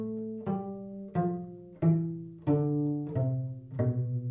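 Cello plays the first ending of Hall of the Mountain King as six separate notes, each sharply attacked and quickly decaying, clear and close with no talking.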